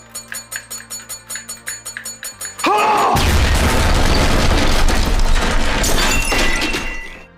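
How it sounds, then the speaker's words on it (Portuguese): A bomb blast in a tense Breaking Bad scene, where a loud, sustained explosion roars and crashes with shattering debris right after a repeated rhythmic ringing, filling the space for several seconds. "Sim, a bomba explode"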